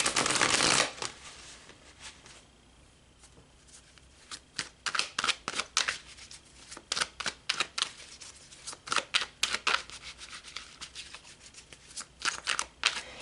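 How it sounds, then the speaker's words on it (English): Tarot cards being shuffled by hand, heard close and alone as a run of quick papery riffles and slaps that come in uneven bursts. "So let's pull some more cards."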